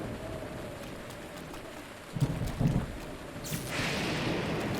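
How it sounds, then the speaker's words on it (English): Steady hiss of rain falls in The Legend of Zelda: Breath of the Wild, broken midway by a couple of low thunder rumbles, then a louder burst of rushing rain and wind toward the end, with no voices. "Can't do anything while it's raining."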